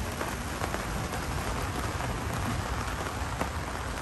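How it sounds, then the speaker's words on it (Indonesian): Rain falling steadily at a summer campsite in Croatia, a dense continuous patter of drops on surfaces close by, with occasional sharper taps and no voices. "hari ini hujan di tempat camping kita"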